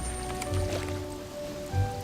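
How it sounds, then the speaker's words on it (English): Water spraying from the tip of a wand for the Aguamenti spell in the Wonderbook: Book of Spells video game, a steady hiss of spray and splashing with dripping and bubbling layered over a continuous background hum. "when you pull the trigger of the motion controller, this orb turns into water spraying out from the end of your wand"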